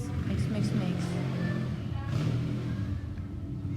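A motorcycle engine drones and revs in the background, a continuous low rumble beneath people talking nearby.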